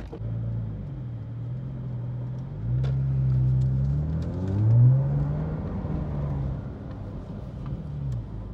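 A Porsche sports car engine hums and revs while driving, rising and falling in pitch with a couple of smooth accelerations, heard fairly close and clear with no talking.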